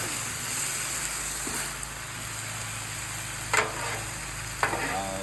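Chicken stir fry sizzles steadily on a Blackstone griddle, a constant frying hiss broken by a couple of brief scraping stirs, with no voices.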